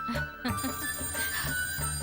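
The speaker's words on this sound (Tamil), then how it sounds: "அர்ச்சனா தான் ஃபோன் பண்றா" A telephone rings indoors in a Tamil family drama, repeated bell-like tones continuing steadily over a low background of music and room sound, with no voices.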